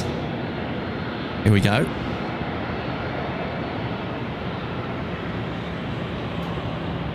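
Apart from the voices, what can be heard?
Qantas 436 airliner landing on final approach at Sydney Airport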